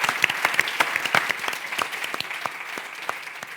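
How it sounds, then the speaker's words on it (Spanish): Audience at a 2023 Zaragoza panel session claps steadily, a dense run of many hands that stays fairly loud and even throughout, with no talk over it. "Yo creo que un aplauso, por favor."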